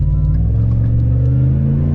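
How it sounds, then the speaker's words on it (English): A supercharged Gen 1 Roush Ford Raptor pickup accelerates, its exhaust giving a loud, deep, sustained rumbling roar that holds steady and close for the whole moment. "just the supercharger experience and the exhaust and the acceleration and everything, it's pretty much right there"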